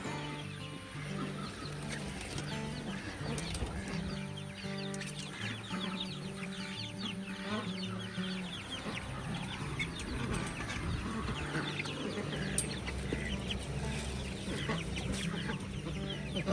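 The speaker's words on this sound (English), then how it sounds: "Let's go and treat the little chicks." Chickens cluck and chatter continuously at close range as they are handed a treat in a backyard coop, with a busy overlapping flock sound and no talking.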